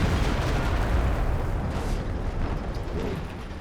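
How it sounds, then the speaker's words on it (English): Stuka dive bomber strikes in a Company of Heroes match land near a Vickers gun and mortar pit, producing a dense, continuous low rumble of battle with booming explosions that slowly fades over the last second. "Stuka coming now again to the middle, to the Vickers, probably the mortar pit."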